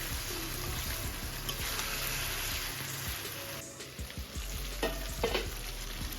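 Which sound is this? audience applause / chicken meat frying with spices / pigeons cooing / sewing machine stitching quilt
chicken meat frying with spices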